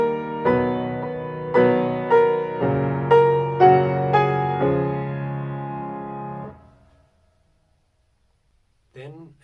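Piano playing the right hand part of a song, a slow series of struck chords and notes ringing and overlapping, fading out before a brief voice at the end.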